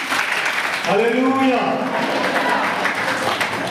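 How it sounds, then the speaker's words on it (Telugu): A congregation claps hands during a Pentecostal Sunday worship service, a rolling patter of many palms under a voice shouting an exclamation close to the microphone. "చప్పట్లు కొట్టండి."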